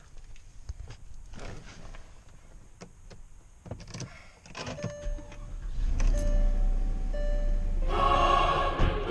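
A Porsche Cayenne Turbo starts after a brake booster vacuum repair: clicks and handling knocks give way to a low engine rumble that swells and settles into a steady idle, with a whirring surge near the end.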